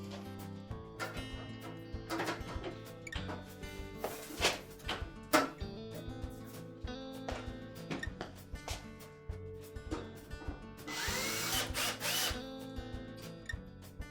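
A power drill drives retaining screws into a Maytag dryer's backsplash during blower wheel replacement, with a few short whirring bursts and clunks over a steady tonal background.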